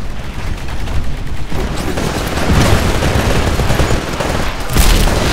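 Rapid gunfire from a weapon in the PC shooter Titanfall (beta), loud and dense bursts with booming impacts layered over continuous game battle noise.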